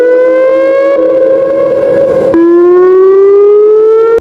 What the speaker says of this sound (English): Second, Damn Failure Siren.